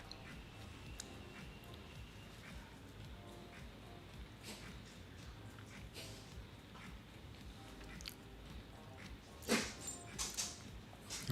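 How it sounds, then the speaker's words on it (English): A pet dog whimpers and whines for a share of food indoors, soft and close, with small yips over a steady low background hum and a louder burst near the end. "my dog can get really vicious, man, when I don't give her some of my food."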